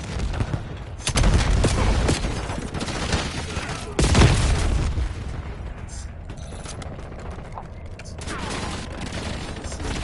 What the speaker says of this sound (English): Lobbing cluster grenade.